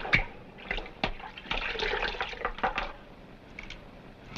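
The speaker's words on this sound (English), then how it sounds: "Master Sam, can I have a little bit more of that water?" Water is poured and splashes in an old 1930s film, an uneven liquid trickle with splashy bursts and drips, loud and close, with no speech.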